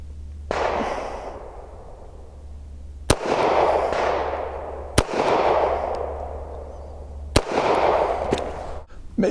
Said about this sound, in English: let's see if I can even hit it with the little .380